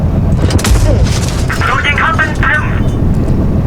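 Tank cannon fire in the World of Tanks video game: a heavy boom with a sharp crack near the start, followed by rumbling battle noise while someone talks excitedly over it.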